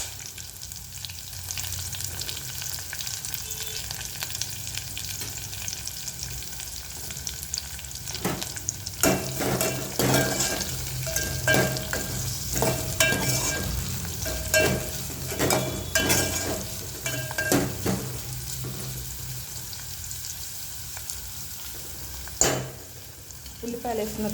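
Onions sizzling in a pan while being stirred, a steady frying hiss with bursts of spatula scraping and clatter in the middle stretch, close up and moderately loud, no talking.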